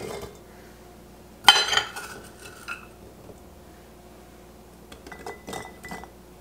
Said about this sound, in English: To those 3 quarts, I'm also going to add a 1/2 cup of diced potato.